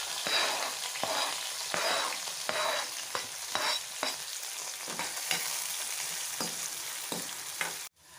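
Ginger, garlic, curry leaves and mustard seeds sauté in hot oil for a lemon pickle, giving a close, steady sizzle broken by rhythmic stirring scrapes roughly every half second, with no talk.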